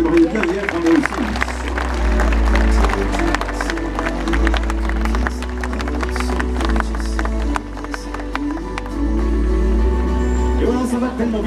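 A crowd in the stands at a sea lion show at Walibi Agen amusement park claps in a dense, steady wash of applause, with a voice talking over it on loudspeakers.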